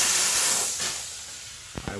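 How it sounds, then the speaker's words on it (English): Steam cleaner hissing steadily while sanitizing a ladies' bathroom, a loud broad continuous hiss that fades slightly, with brief short noises near the end. "it's just steam, and it sanitizes the bathroom as well"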